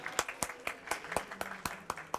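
A small audience at a biology quiz session claps in a brief, sparse round, about ten distinct hand claps at an even pace, close and moderately loud.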